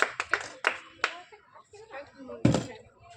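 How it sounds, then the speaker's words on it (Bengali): People clapping hands during an outdoor food game, a few scattered sharp claps in the opening second and a louder burst later, with a voice talking in between. "হাততালি, হাততালি কোথায়? হাততালি দাও।"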